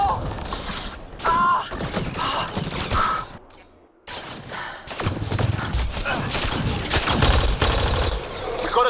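Turret gunfire in Mass Effect: Andromeda rattles in dense, sustained bursts through a noisy combat scene, with a short lull partway through and constant battle clatter.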